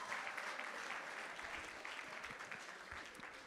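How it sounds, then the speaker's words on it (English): An audience at a dinner event applauds second-year drama students, producing a dense, steady wash of hand clapping that holds evenly for several seconds and sounds somewhat distant. "let's give our second-year drama students a round of applause"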